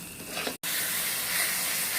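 Water poured into a pan of frying spices for Bengali ghoroa kosa mangsho, a strong steady hiss and sizzle of steam with a brief cut early on, then continuous loud hissing.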